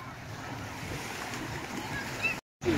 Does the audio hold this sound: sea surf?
yes